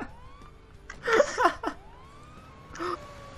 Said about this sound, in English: Fire trucks are just like ramming up against each other with sirens on.